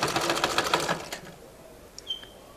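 A sewing machine stitching the neck band of a kameez gives a quick run of rhythmic mechanical clatter for about a second, then stops, leaving a few faint small clicks.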